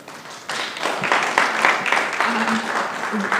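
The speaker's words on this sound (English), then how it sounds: "Prof. Daniela and Dr. Chengen, please clap for them." Audience applause at a quality forum conference session, a steady wash of clapping that swells after a moment and continues evenly throughout, with a few faint voices mixed in.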